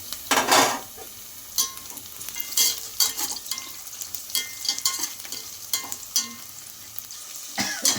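Green chillies slit down the side frying in a pan, a soft steady sizzle punctuated by repeated stirring scrapes and light utensil clinks, close and without talk.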